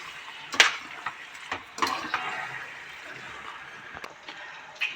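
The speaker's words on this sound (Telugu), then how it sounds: "మనం కిలో మటన్ తీసుకుంటున్నాం కదా, ఇలా వేసేసి హై హీట్లో 2 to 3 మినిట్స్ మంచిగా కలపాలి" About a kilo of mutton stirred in a pan over high heat for a mutton curry: scraping strokes and soft sizzling, with a few sharper knocks of the spoon against the pan and no talking.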